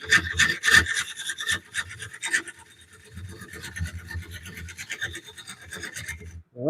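A woodturning blade is sharpened with a steady rasping, rubbing grind, loud bursts in the first two seconds and then softer repeated strokes, with no talking.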